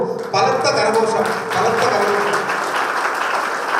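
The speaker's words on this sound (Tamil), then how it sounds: "பலத்த கரகோஷம்" An audience at an educational trust event gives loud, sustained applause, dense clapping that swells and holds before easing slightly, with a voice faintly mixed in.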